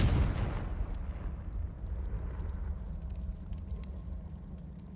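A Confringo spell explosion from Hogwarts Legacy, a loud fiery blast at the start that quickly decays into a low rumbling tail with crackling debris.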